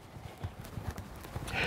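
Horse hooves on the ground during walk and trot transitions in groundwork, a steady near clip-clop of several even footfalls with faint background noise.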